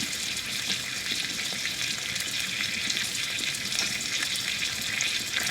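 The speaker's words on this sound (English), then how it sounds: "It's just sizzling away nicely there." Steady, continuous sizzling of steak frying in a pan on an Outbacker wood stove outdoors, close by, a dense crackling hiss with no talking.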